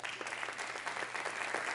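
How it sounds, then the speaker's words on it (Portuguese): A church congregation applauding at a worship service, a steady roar of many hands clapping together with a faint hint of voices underneath. "Aplauda ao Senhor."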